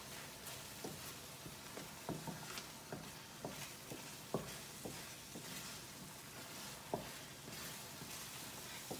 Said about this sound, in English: So now is the time that I like to turn it non-stop when I add the egg, so it doesn't get burned or stick on the pot.